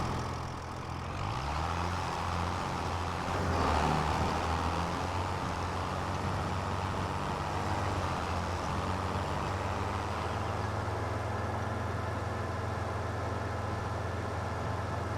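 Farm vehicle engine in Farming Simulator 25, pulling a trailer: a steady low droning motor hum, constant and fairly loud throughout, with a slight rise in revs early on.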